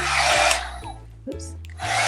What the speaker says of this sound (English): Let me hit that with the heat gun again.